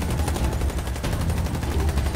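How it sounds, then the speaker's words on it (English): Rapid automatic gunfire from the shooter video game Warface, dense bursts of shots rattling continuously and loudly for a couple of seconds with no talking. "Who is shooting?"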